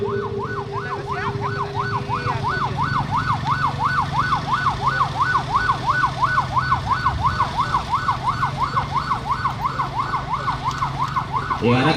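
An ambulance siren wails in a fast, regular up-and-down cycle over a rumbling road procession, loud and close, with a vehicle engine droning underneath.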